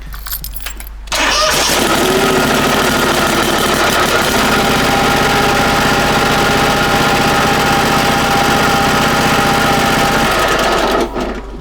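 Snapper Pro SW30 52-inch mower with a Kawasaki 651V engine, long unserviced, cranking and starting before settling into a loud, steady running drone close by for about ten seconds, then cutting off.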